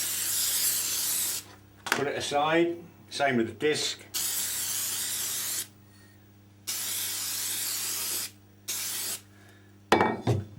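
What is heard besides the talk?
spraying adhesive from an aerosol can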